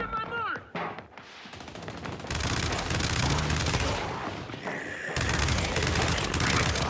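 Dense automatic gunfire crackles through a Gears 5 multiplayer match, starting with a few sharp shots, then a near-continuous loud barrage that briefly drops out and resumes, with faint voices mixed in.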